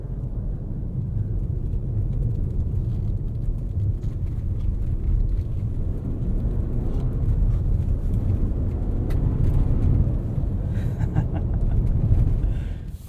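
A 2021 Toyota RAV4 Prime XSE drives through snow, a steady low engine and road rumble heard from inside the cabin that swells and eases slightly as the throttle is feathered, with no speech.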